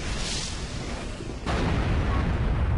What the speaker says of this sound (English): And Zarok just created a fireworks show.